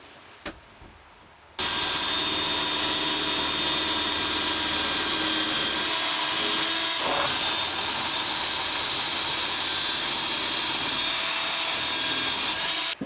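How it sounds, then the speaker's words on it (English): A power drill bores two holes for a chain securing point, starting after a quiet second and a half, then running loud, close and steady to the end with a brief change in load partway through. "I'm going to drill the 2 holes"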